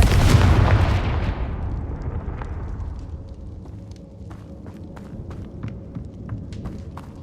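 A Confringo fire spell bursts in the video game Hogwarts Legacy with a loud blast that fades into a long rumbling decay, with faint crackles afterward.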